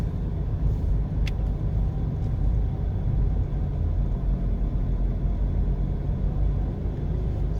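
Car driving through a hillside residential neighborhood of Queenhill, Kingston, Jamaica, heard from inside as a steady low road rumble and engine drone with a couple of faint clicks.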